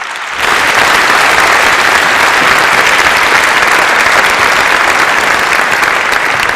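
A school ceremony audience applauds student Yumi, a sixth-grader, in a loud, sustained burst of clapping that starts abruptly and keeps going steadily without dying down.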